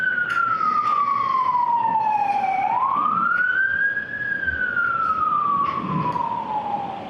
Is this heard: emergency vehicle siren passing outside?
yes